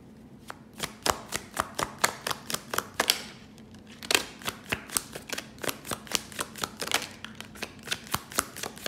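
Tarot cards are shuffled close up in a quick run of crisp riffling snaps and slaps, evenly spaced, with a brief pause in the middle before the shuffle resumes.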